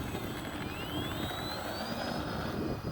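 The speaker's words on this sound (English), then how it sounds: "I'm going to taxi around, take off into the wind again with takeoff flaps." An E-flite AT-6 1.5m electric RC airplane taxis for takeoff, its motor whine rising steadily in pitch over a loud, continuous outdoor noise bed.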